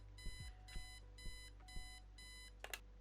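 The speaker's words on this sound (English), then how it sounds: "Eileen's obnoxious alarm clock." An obnoxious digital alarm clock in the video game Kathy Rain sounds a repeating series of harsh electronic beep bursts at a steady rhythm over a low hum.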